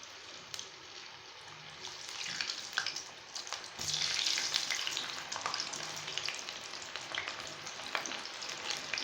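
Cut potatoes for French fries fry in hot oil with a steady, hissing crackle that swells louder partway through and continues evenly, close and unaccompanied by talk.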